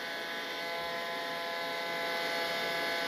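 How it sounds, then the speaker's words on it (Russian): A vacuum cleaner runs steadily at close range while being used to vacuum a cat during grooming, a continuous dense whirring drone without pauses. "Мы его, если вычесываем, а потом мы его пылесосим."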